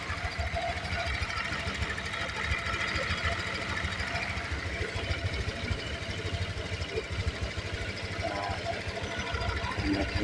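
A Honda Click 125 scooter engine idles to warm up, a steady close-up putter with a constant mechanical rattle throughout, with no talking.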